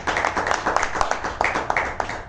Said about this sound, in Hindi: आपकी तालियां रुकनी नहीं चाहिए, ऐसे बजाते रहिए